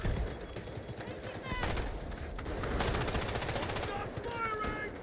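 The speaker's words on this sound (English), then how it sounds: "I can control the recoil pretty good on this gun without anything, but I gotta really try to control it." Automatic gunfire from a rifle in a first-person shooter video game: a short burst, then a longer rapid string of shots, loud and close, with a steady layer of game ambience underneath.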